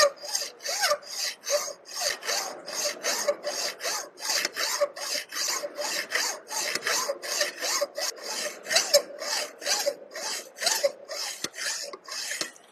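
Hand file rasping slowly across a workpiece in steady, rhythmic strokes, about two per second, close and clear with no talking.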